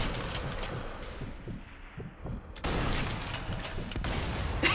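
Repeated sniper rifle gunshots from the Sniper Elite V2 Remastered video game, sharp cracks scattered through a dense, noisy game soundscape that swells louder midway, with no talk over it.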